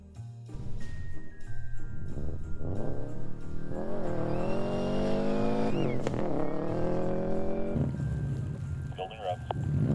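A Subaru STI with all-wheel drive launches in deep snow in Mexico, its engine revving hard and rising in pitch while the tires spin, loud and close, with voices over parts of it.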